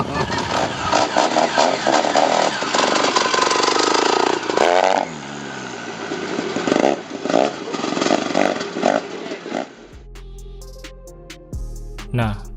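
A rare rotary-engine trail motorcycle runs loudly nearby with a buzzing, revving engine note. Someone talks over it, and the engine sound drops lower and quieter toward the end.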